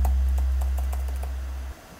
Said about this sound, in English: 808 bass. It originally sounds like this.